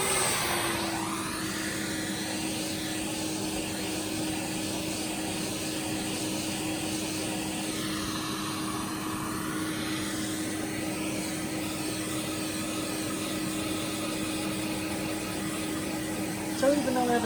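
A Hoover Junior U1012 upright vacuum cleaner, freshly refurbished, hums steadily on its low setting, a continuous even drone with a faint tonal whine that shifts slightly midway while people talk nearby.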